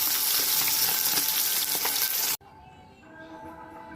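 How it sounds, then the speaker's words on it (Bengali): Bata fish frying in hot oil in a home kitchen gives a loud, steady, close sizzle for about two and a half seconds, then cuts abruptly to a much quieter crackle. "বাটা মাছটা ভেজে নেওয়া হচ্ছে।"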